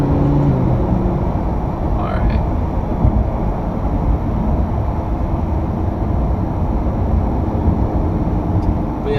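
A Lamborghini Huracan's stock exhaust runs a loud, steady engine and exhaust drone throughout, rumbling low with road noise, no breaks or pauses.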